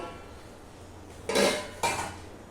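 Cooked vegetables, including fried bitter gourd, lifted out of a pot with the gas off: two distinct metallic clatters of a utensil against the pot after a quiet pause.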